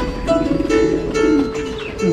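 Pigeons of several breeds cooing close by in a home loft, soft repeated throaty coos overlapping one another in a steady murmur.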